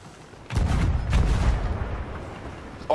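Cannon fire at sea in the pirate video game Sea of Thieves: a heavy booming blast with a rumbling low tail lasting over a second, loud and close, with a sharp new hit starting at the very end.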